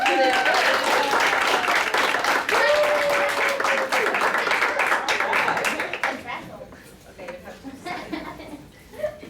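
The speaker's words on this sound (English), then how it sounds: "everybody clap for Jaleel." A class claps for a student named Jaleel, a dense burst of applause with talk over it, thinning out and fading after about six seconds into scattered claps and murmuring.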